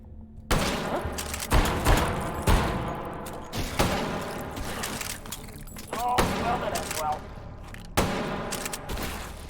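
Gunfire in a competitive shooter video game match, with repeated bursts of rapid shots and booms spread across the stretch, heard under an excited commentator's voice.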